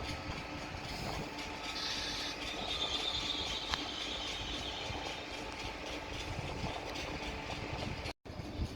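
A Class 373 Eurostar pair pulls into a busy platform at Paris Gare du Nord beside a TGV, a steady rumble of train and station noise with a faint high squeal, continuous and fairly close, with no talk.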